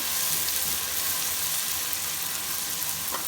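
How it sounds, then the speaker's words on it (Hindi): Tomatoes and green chillies being stirred into a potato gravy make a steady, close sizzle and bubbling hiss throughout, with faint scraping from the stirring underneath. "ये इसके बाद इसको इस तरीके से मिक्स कर देंगे हिला के।"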